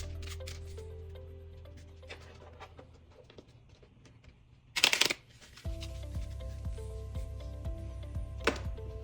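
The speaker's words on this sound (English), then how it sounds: "we'll shuffle the entire deck together" A deck of playing cards is shuffled close by, with a sharp riffling burst in the middle of soft handling rustles and quiet background hum.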